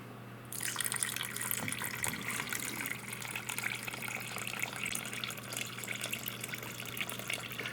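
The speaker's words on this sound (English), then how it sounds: "I'm putting in some additional water again after draining out some more murky water" Water poured into a homemade toroidal vortex gold sluice bowl, starting abruptly after a quiet moment and then running as a steady splashing, gushing stream with dripping texture, close and continuous to the end.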